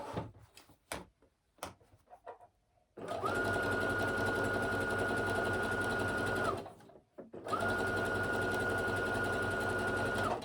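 A sewing machine stitches leggings in two long, steady whirring runs with a short pause between, preceded by a few quiet clicks and handling sounds.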